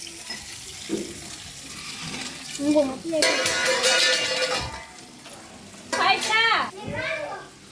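Fish frying in a pan at home, with bursts of hissing sizzle and oil spatter alongside stirring and clatter, while people talk over the cooking.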